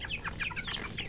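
Breeder chickens clucking as they are let out of their enclosure on a poultry farm, a string of quick, fairly close, overlapping clucks and short calls from several birds, with no talking.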